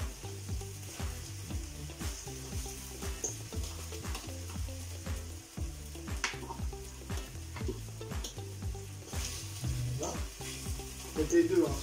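Onions frying in a pan for a Provençal-style bolognese, a steady close sizzle with a rhythmic low pulsing underneath, continuous for the whole stretch without talk.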